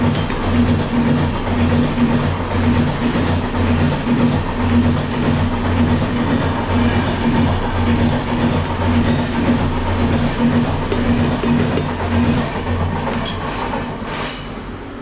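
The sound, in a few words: passing train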